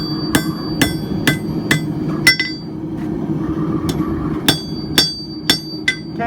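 A hammer strikes hot steel while a paper towel holder is forged, giving about a dozen sharp, ringing metallic blows at an uneven pace over a low steady rumble. No one speaks.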